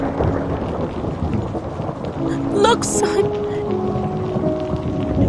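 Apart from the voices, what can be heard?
storm with thunder and heavy weather, from an animation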